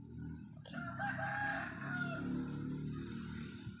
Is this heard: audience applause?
no